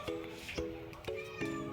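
A cat meows several times in a row, faint and somewhat distant, with a person speaking quietly in the background.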